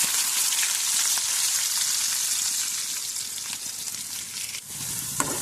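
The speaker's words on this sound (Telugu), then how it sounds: "ఇప్పుడు ఇందులో ఉల్లిపాయ పచ్చిమిరపకాయలు వేసుకోవాలి." Onions and green chillies sizzle loudly in hot oil in a pan, a dense, close crackling hiss that holds steady throughout, with a few brief clinks near the end.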